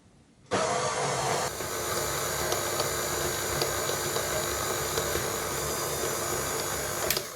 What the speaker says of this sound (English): Onto the mixer, and we'll mix that for about 3 minutes till fully incorporated.